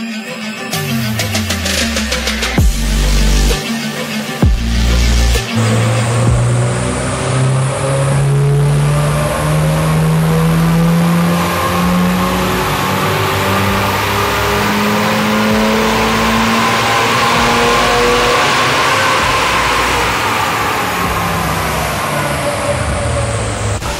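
A tuned Subaru BRZ sports car engine with a full aftermarket exhaust fires up and revs repeatedly, climbing to a loud, raspy high-pitched howl that holds and swells over a long stretch.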